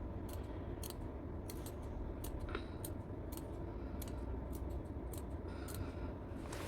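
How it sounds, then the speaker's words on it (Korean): Fabric scissors snip notches into the seam allowance of a coat's facing and body panels, a steady series of crisp cuts repeating at a quick, uneven pace, close up and with no talk. "이제 가위밥을 주십니다."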